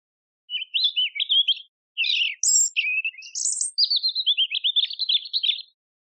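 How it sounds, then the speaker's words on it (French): A European robin sings a clear, high, warbling phrase of varied trills and thin whistled notes, loud and close against a silent background with no voices, pausing briefly before a second longer run. "Le rouge-gorge."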